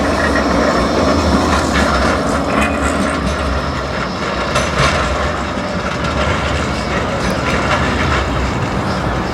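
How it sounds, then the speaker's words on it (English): A tram approaching from Fleetwood on the Blackpool line, heading for Starr Gate: a loud, continuous rumble and rolling rail clatter close by, filling the whole stretch. "tram approaching from Fleetwood, heading for Stargate"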